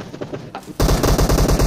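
PUBG Mobile gunfire breaks in abruptly after quieter game sounds, becoming a loud rapid burst of automatic shots with an even, fast rhythm.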